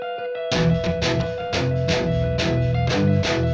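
A distorted electric guitar preset from the Zero-G Kepler synth plays a chunky rhythmic riff of repeated chords with sharp, evenly spaced attacks, loud and close, alone without talk.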